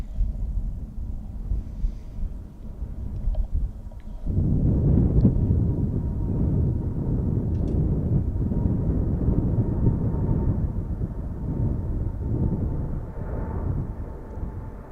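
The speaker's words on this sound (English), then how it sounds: "777 heading for Boston by KLM." KLM Boeing 777 airliner departing Amsterdam airport, a deep rumbling jet roar that swells abruptly and stays loud and broad, heard from outside at a distance.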